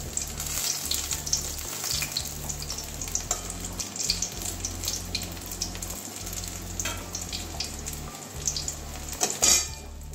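Stuffed kakrol (spiny gourd) frying in a pan, a continuous close sizzle of oil with occasional utensil scrapes and clinks, carrying on steadily without speech.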